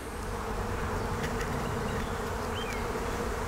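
Honey bees swarm-buzzing in an open hive box on a homestead, a dense continuous drone held close to the microphone with no speech over it.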